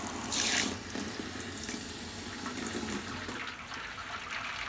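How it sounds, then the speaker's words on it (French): Rinse water trickles and splashes steadily through a bed of grain during home beer brewing, a continuous close wet hiss with a louder gush near the start and no voices. "Et on entend que ça filtre."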